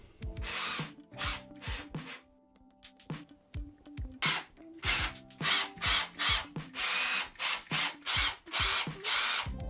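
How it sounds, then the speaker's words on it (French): A power drill or screwdriver drives screws through a wall mount into a wall, with repeated short whirring bursts. The bursts come slowly at first, then in a quicker steady rhythm, loud and close. "Puis je visse le tout au mur."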